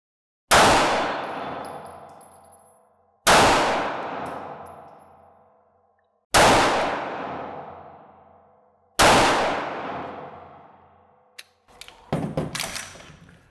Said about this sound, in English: So that was a 4-round shot.